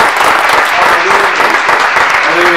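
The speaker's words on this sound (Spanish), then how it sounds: "Vamos a hacer un fuerte aplauso al invitado que es." A TV studio audience at the close of a talk-show debate program gives a guest loud, steady applause, dense continuous clapping filling the whole stretch with faint voices and a few whoops underneath.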